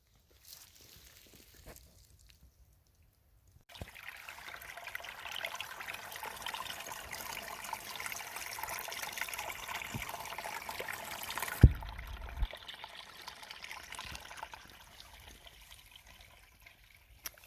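Water trickles and splashes steadily from a mountain stream after a quiet start, a soft continuous babble close by that fades toward the end.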